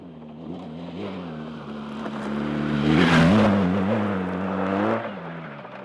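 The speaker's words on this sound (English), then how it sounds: "The throttling up wheelies out of corners, the little cracky wheelies over crest" A 2025 BMW R 1300 GS ASA automatic adventure motorcycle rides off-road, its boxer engine droning steadily and rising into a louder throttle swell mid-clip before settling again, close and continuous.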